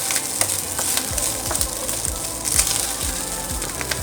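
Ghee heats and sizzles in a hot pan before onions and garlic go in for zuppa toscana, a dense continuous crackling hiss close up with faint rhythmic scraping underneath and no voices.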